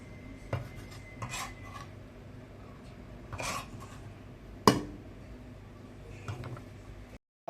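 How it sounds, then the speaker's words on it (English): Shredded tuna and onions roughly mixed in a bowl, soft scraping and rubbing strokes in an irregular rhythm, close and fairly quiet, with one sharp clack partway through. "Now I'm just roughly mixing everything up in the bowl first."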